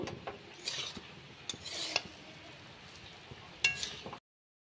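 A spatula stirs fried rice with chopped coriander in a pan, scraping and clinking in a few bursts of metal on metal with a soft sizzle between them. It stops abruptly at the end.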